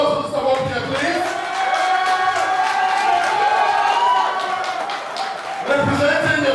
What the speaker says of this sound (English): A round of applause for Mr. Bo Pierre, please.